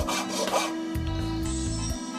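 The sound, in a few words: filing a Sardinian knife with coarse and fine files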